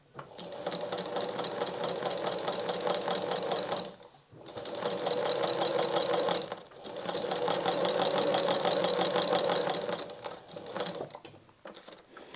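An old Pfaff sewing machine stitches through layers of fabric, running close and loud in fast, even bursts of rapid mechanical clatter with two short pauses between runs.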